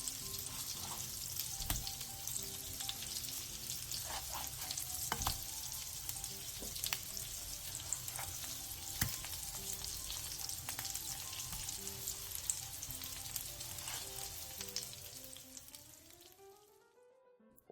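Korean jeon pancakes with pork frying in a pan over low heat, a steady soft sizzle with occasional crackles and light utensil taps, close and quiet, ending abruptly.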